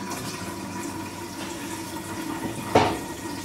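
Tap water runs steadily into a pan for boiling eggs, a continuous close splashing rush with a brief louder gush near the end, no voices.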